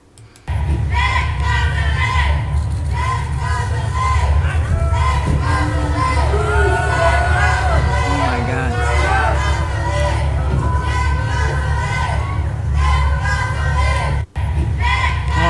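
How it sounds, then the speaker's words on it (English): A large crowd jeers and shouts in a loud, sustained roar, with voices rising and falling together in a continuous wall of noise, briefly cut off near the end. "I can't understand what they are saying, but I get the boos"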